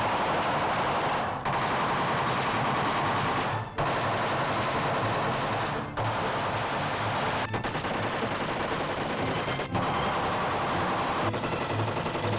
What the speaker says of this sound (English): Now 600 shots a minute.